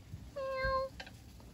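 A stray cat visiting at a Japanese gorge campsite gives one clear, close meow lasting about half a second against a quiet outdoor background.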